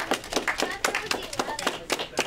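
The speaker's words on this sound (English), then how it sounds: "Give yourself a round of applause." A small group of Cub Scouts claps on a TV station tour, with sharp, uneven hand claps at an irregular rhythm, close and fairly loud, and children's voices murmuring underneath.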